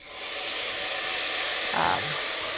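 Dry white Chardonnay splashes into a hot risotto pan of sausage and mushroom, giving a steady loud hiss of steam and sizzle that holds for a couple of seconds with a brief bubbling burst near the end.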